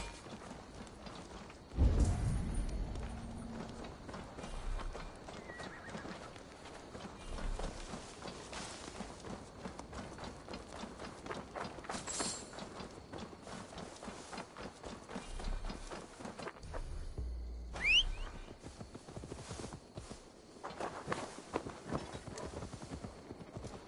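Horse hooves clip-clopping along in the Assassin's Creed Valhalla video game, a steady walking rhythm with occasional louder thuds and a faint whinny, heard alone.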